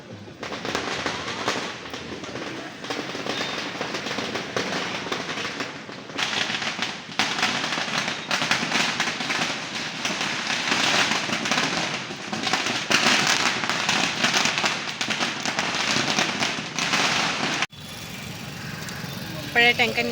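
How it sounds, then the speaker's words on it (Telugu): Firecrackers burst at a wedding in rapid, crackling volleys, loud and nearly continuous for most of the stretch before cutting off abruptly near the end, with voices in the background. "క్రాకర్స్ కాలుస్తున్నారు"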